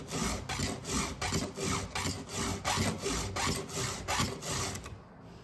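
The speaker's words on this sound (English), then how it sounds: "just file it till it's sharp" A round file in an Oregon file guide is pushed across a chainsaw chain's cutters in about a dozen regular rasping strokes, close and crisp, with short pauses between strokes and a quieter tail at the end.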